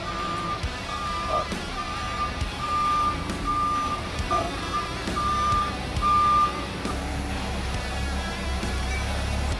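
A truck backing up sounds its reversal alarm, a steady run of evenly spaced beeps over engine rumble and low vehicle noise, with a door standing open nearby.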